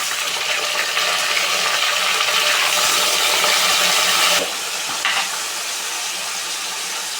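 Mutton hits a pan of hot oil with curry leaves and sizzles loudly and steadily at close range, then the frying noise drops to a quieter continuous crackle partway through, with a brief stir.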